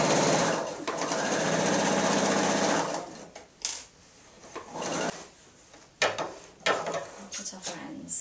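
A sewing machine stitches along the folded edge of an apron in a long continuous run, then breaks into shorter start-stop bursts with handling clicks between them.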